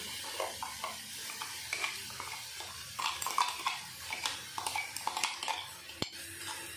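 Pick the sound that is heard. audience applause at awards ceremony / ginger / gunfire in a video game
ginger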